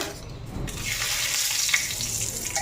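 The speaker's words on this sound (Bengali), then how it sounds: "আর এখন এদিকে তেজপাতা ফোড়ন দিয়ে" Bay leaves tempered in hot oil for a Bengali rice and potato dish: a steady, close crackling sizzle with a soft hiss throughout and a few brief louder spits.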